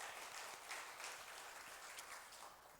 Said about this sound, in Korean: 격려와 소망의 박수 부탁드립니다